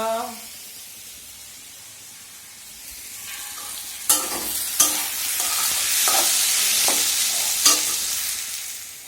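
Potato pieces fry in plenty of oil with a steady close sizzle, broken by several loud clanks and scrapes as a ladle stirs them in the pan, and a voice talks briefly at the start.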